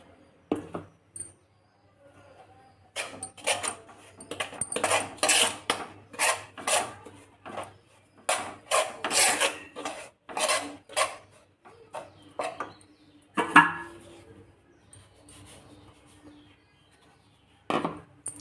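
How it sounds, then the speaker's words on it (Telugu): A spoon clinks and scrapes against a bowl as it stirs beetroot bath powder into rice flour. The quick tapping strokes come in bursts separated by short quiet gaps. "నేను స్పూన్తో కలుపుతున్నాను"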